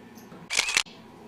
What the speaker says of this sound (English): It's the shutter.